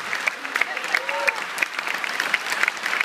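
A concert audience at Casino Barrière in Lille applauds the sound and lighting crew, steady clapping with scattered sharp hand claps while a voice speaks over it.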